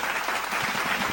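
Audience applause at a Hindi comedy poetry gathering, a brief, dense burst of many hands clapping together at an even, fairly loud level.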